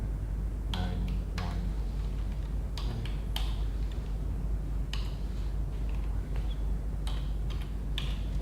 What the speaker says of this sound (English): So I'm going to type that in 1291.